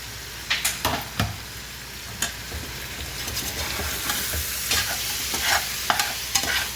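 Mixed vegetables and tomato sizzle in a pan for vegetable masala bath, a continuous hiss under frequent sharp scraping stirs and taps of a ladle, near and fairly loud.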